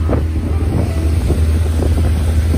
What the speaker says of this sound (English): Well, we just got an extra trip on this boat.